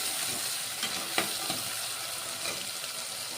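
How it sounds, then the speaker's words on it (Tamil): Tomatoes and two green chillies sautéing in a pan for a cauliflower chilli gravy, giving a steady close sizzle with a few light clicks from stirring throughout. "இப்போ தக்காளியும் 2 பச்சை மிளகா வச்சுருக்கேன், அதையும் போட்டு வதக்கி எடுத்துக்கலாம்"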